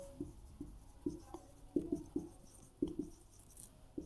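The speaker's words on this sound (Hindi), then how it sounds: "यहाँ पर हम लिखेंगे इंडिकेटर" A pen or chalk writing a chart during a Class 10 science lesson, soft irregular taps and short strokes in a quiet room, faint and close.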